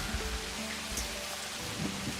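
Rain falling in the video game Satisfactory, a continuous even hiss of downpour with low rumbling underneath and no talk.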